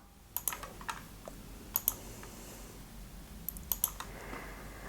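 Light plastic clicks of a computer mouse come in small clustered bursts, two or three quick clicks at a time, close and fairly quiet over a soft room hiss.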